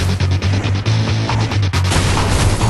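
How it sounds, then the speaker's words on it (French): Loud crashing and smashing of cars in the Burnout Revenge racing game, with repeated impacts and booms over a steady engine drone and rhythmic game music, no talk. "Regardez, les crashs remplissent votre barre de boost."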